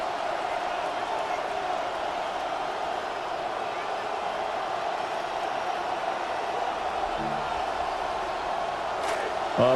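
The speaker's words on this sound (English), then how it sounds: "A big play here as the crowd noise rises." A video game football stadium crowd in Madden roars as a steady, broad wash of cheering noise, holding fairly loud throughout, with faint background voices.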